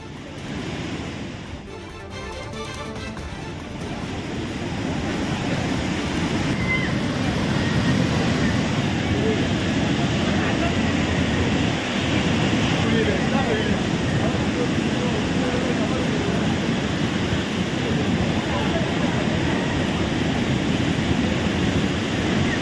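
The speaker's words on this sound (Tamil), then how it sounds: "குற்றால அருவியில் ஆக்ரோஷமாக தண்ணீர் வழிந்தோடக்கூடிய அந்த காட்சிகளை நாம் பார்க்கிறோம்." Floodwater roars down the Courtallam waterfalls in a dense, loud, continuous rushing wash that builds slightly after the first seconds and holds steady, with wind-like noise and no clear voices.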